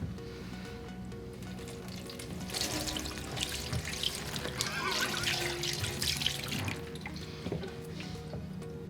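Water runs from a tap to rinse tea dust off a Compact Workstation 310, a splashing, trickling flow with drips that swells in the middle and eases toward the end, fairly quiet and close.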